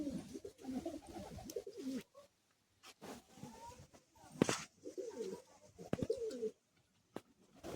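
Pigeons cooing at a pigeon market in Uluberia, soft repeated coos in bursts with gaps, close by, with a few sharp clicks and knocks between calls.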